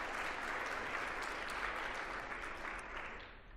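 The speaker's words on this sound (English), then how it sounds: "So let's give her a round of applause." Audience at a healthcare conference applauding, a steady even patter of many hands clapping, fairly distant and sustained before tapering slightly at the end.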